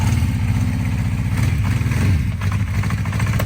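A cold Honda CB350 Four motorcycle engine runs steadily just after a cold start, a close, continuous low idle with a rapid pulsing beat and a faint mechanical clatter.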